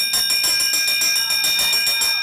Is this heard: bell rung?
yes